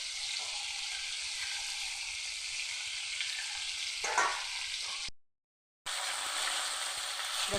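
Snakehead (shol) fish frying in a wok, a steady loud hissing sizzle with a brief spatter of movement, cut off by a short silence before the sizzle resumes.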